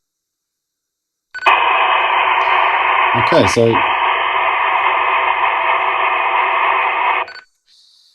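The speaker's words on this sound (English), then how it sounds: "The squelch is basically what stops all of the radio static from playing all of the time." Loud, continuous static hisses from a Uniden UH5060 UHF CB radio with squelch disabled for several seconds, then cuts off abruptly, with a brief spoken phrase heard partway through.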